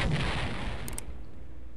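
Explosions from the game Command & Conquer: Red Alert, a heavy low rumble with a sustained boom and a short crackle, close and fairly steady, with no talk.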